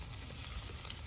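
Turmeric powder and spices frying in oil in a pan, giving a steady, close sizzle with a faint crackle throughout and no voices.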